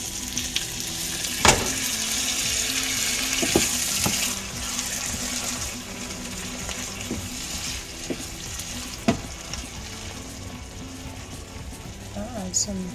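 Hot water pours into a pot on the stove for Jamaican-style steamed fish, a continuous sizzling, hissing wash of sound with a few sharp clinks of cookware, while a person talks.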